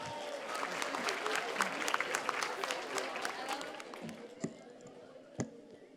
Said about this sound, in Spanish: recibamos con un muy fuerte aplauso al secretario de Educación Pública, al maestro Mario Delgado Carrillo.